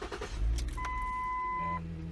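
A Ford Edge with a PCM or grounding fault cranks and starts, with a short rumbling burst followed by a steady hum and a high electronic whine from the car, heard up close with no talking.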